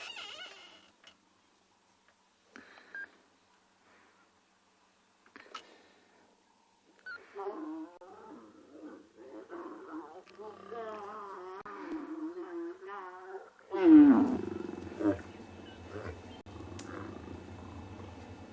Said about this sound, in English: Stop snarling at her, Mohawk